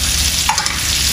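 Onion, garlic, green chili and chepa dried fish fry in mustard oil with a steady, dense sizzle, broken by a brief stirring scrape partway through, close up and without speech.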